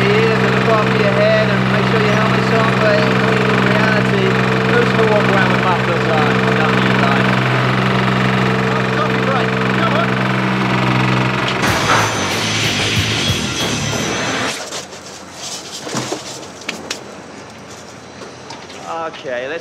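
A construction machine engine rumbles steadily while leveling a patch of ground, loud and close, then gives way to clattering and knocking noises before fading lower near the end; voices can be heard under it.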